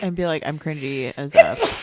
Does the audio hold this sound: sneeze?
yes